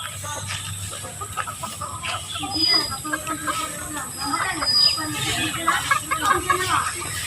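Pet chickens cluck and chatter in a yard among household fowl, soft repeated clucks scattered throughout under someone talking.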